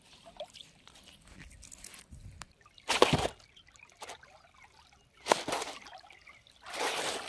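Water splashing at Yeldari dam during rohu fishing: three loud, short bursts of splashing over faint rippling and trickling water.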